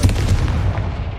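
A Confringo explosive spell blasts in Hogwarts Legacy, a loud, booming burst with a rumbling low-end tail that fills the short moment on its own.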